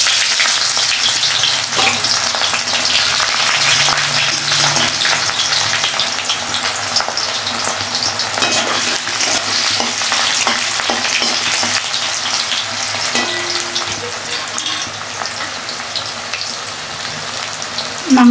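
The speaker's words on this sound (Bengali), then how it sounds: "কড়াইতে আমি তেল দিয়ে দিলাম, তেজপাতা দিয়ে দিলাম, পেঁয়াজ কুচি দিয়ে দিলাম।" Chopped onion and bay leaf sizzle in oil in a wok, a loud, steady, close crackle like rain that runs unbroken with occasional stirring, and no voices.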